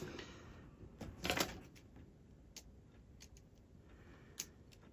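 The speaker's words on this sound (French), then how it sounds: "Hop, un deuxième coup de cutter ici." A utility knife makes a brief, faint scraping slice through thin aluminium sheet, guided along a strip of tape, followed by a few soft ticks and taps in a quiet workshop.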